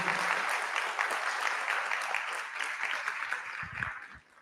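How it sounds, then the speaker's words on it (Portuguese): An audience at a lecture on climate change and regenerative agriculture gives a sustained round of applause to the doctor, dense and even before tapering softer, with a few low thumps near the end. "Os aplausos para a doutora"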